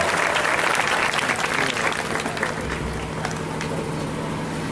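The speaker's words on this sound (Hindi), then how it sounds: "जोरदार तालियों से अभिनंदन, स्वागत" Loud, dense applause from an audience at a Hindi-language gathering at a Gayatri Pragya Peeth centre, welcoming a speaker to the stage. The clapping is steady and continuous throughout, with a slight easing toward the end.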